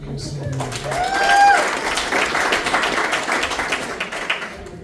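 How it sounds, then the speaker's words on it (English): A comedy club audience claps and applauds in a steady, moderately loud burst as a comedian's voice carries over it. "Clap it up for yourselves."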